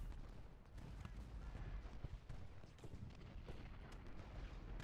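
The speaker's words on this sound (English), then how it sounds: "Nice volleys there from Wilcox." Musket volleys and artillery from an American Civil War battle in Ultimate General: Gettysburg rumble in the distance, with dense crackling rifle fire and low booms rolling together in a continuous, fairly quiet battle din.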